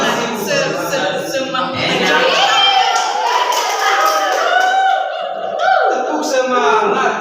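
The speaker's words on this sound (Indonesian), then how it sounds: "Saya ada tepuk semangat baru." Schoolchildren in a classroom perform a spirit clapping chant, voices chanting in unison with rhythmic claps and taps, lively and close, with some laughter mixed in.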